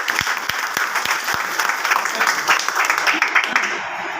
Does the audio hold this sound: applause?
yes